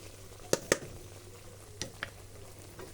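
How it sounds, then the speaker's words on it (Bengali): Chalta pickle cooks down with melting sugar in a pan, a faint low sizzle under a few sharp stirring scrapes, two close together and two more later. "চিনিগুলো যতক্ষণ গলা শেষ হয় না ততক্ষণ নাড়াচাড়া করতে থাকবো"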